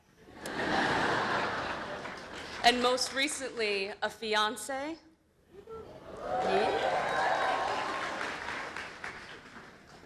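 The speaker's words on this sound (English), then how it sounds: "That's a good thing, you can clap." A commencement audience breaks into applause after a graduate's remark, a broad wash of clapping that swells, dips briefly under the speaker's voice, then returns strongly and sustained.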